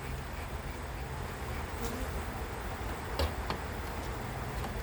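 Honeybees hum around the entrance of a beehive during feeding, a steady close drone of many insects with a few brief louder buzzes as individual bees pass near.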